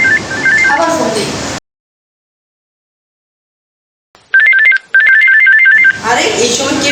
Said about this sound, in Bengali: আরে এই সময় কে কল দিল আমাকে?